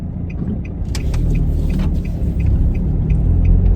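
A car moves slowly and turns around on a Norris Green driving test route in Liverpool, its engine rumbling low and steady up close with faint road noise and a few light ticks over the top.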